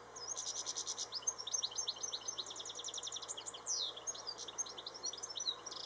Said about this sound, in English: I hope you can hear this bird singing,